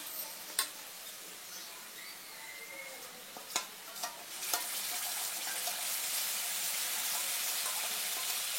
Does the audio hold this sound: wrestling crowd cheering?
no